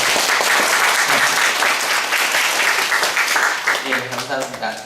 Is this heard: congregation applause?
yes